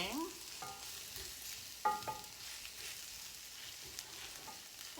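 Breakfast hash being gently folded and stirred in a cast iron pan, a steady close sizzle of frying with soft scraping stirs and a few sharper utensil knocks.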